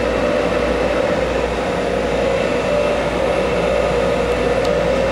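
A Kellenberger universal cylindrical grinder, 19.625 by 40 inch, runs with its workhead turning, giving a steady, loud machine hum with a constant tone that holds evenly from start to finish, with no voices.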